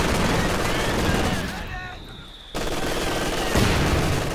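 Machine gun fire in Company of Heroes 2 combat, dense rattling bursts mixed with other battlefield noise, a brief near-silent gap in the middle, then the gunfire resumes loudly.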